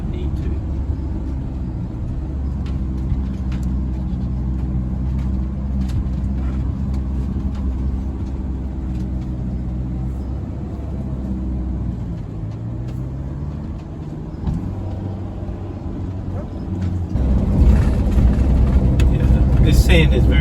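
A Sprinter van drives over desert sand in the Simpson Desert. The engine drones low and steady inside the cabin with a rumbling undertone, shifts pitch midway, and grows louder near the end.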